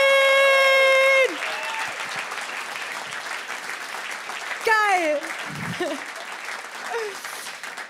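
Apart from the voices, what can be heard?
audience applause at comedy show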